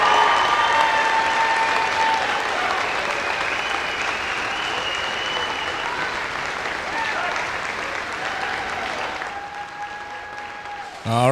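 A large arena crowd applauds and cheers for a boys high school basketball state championship team, loud sustained clapping and cheering that slowly fades, with an announcer's voice over it.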